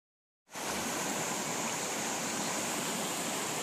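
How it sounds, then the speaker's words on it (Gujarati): Steady rushing water from a forest stream and waterfall in the Barot Valley, a continuous broadband roar starting after a brief silence and holding loud and even, with no voices. "આ નેચરલી પ્રાકૃતિક રીતે ઝરણા જેનું ખૂબ જ સુંદર દ્રશ્ય દેખાય છે, જંગલની વચ્ચે"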